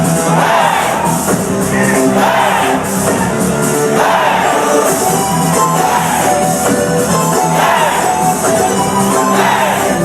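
A live crowd shouts, yells and cheers along to a chiptune song, the loud, dense roar of voices running continuously over the driving electronic music.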